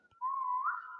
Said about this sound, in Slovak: Zapískam.